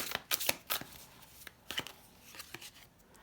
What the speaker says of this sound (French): Je vais mélanger encore un peu.